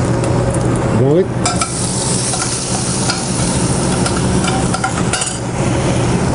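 Garlic sizzling and frying in hot oil in a cooking pan, a steady close crackle with a few stirring scrapes and clinks partway through.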